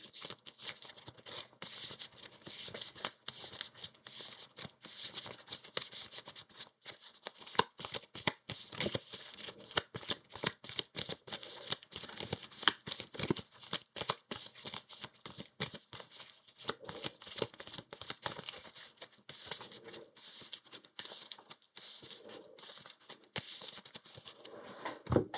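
Cards for the Earthborne Rangers board game are shuffled at close range, a long run of rapid crisp riffles and slides with many short bursts and brief pauses, with no speech.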